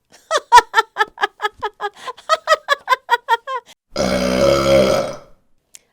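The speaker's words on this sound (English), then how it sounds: "Funny laughed so hard he burped." A rapid series of squeaky, rhythmic giggles followed by a long, loud, drawn-out burp, close and clear.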